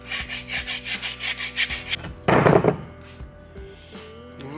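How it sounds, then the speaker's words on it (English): Fine sandpaper on a sanding block rubs over freshly machined Harley-Davidson Twin Cam 103 motorcycle cylinders in quick, rhythmic back-and-forth strokes, followed by a louder scraping burst and a few light knocks in a quiet shop. "I'm just gonna take some pretty fine sandpaper on a sanding block."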